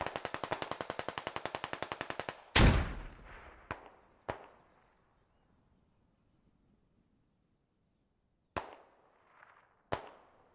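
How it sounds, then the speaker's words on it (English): Grenade explosions and gunfire in a military video game: a rapid burst of automatic fire, then a big booming blast with a long decaying tail, followed by isolated sharp shots spaced out amid near silence. "INS throwing another nade over."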